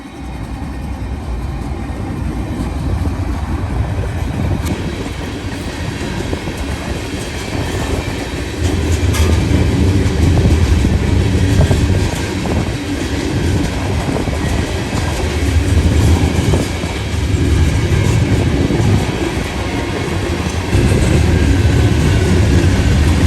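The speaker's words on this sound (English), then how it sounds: "The eastbound was NS 178, led by two rebuilt AC 44 C6Ms" Freight train NS 178 heading eastbound behind two rebuilt AC44C6M locomotives, about 75 to 80 cars long, on rails still wet from rain; a steady, loud rumble of wagons rolling past close by, with faint clickety-clack throughout and no talk.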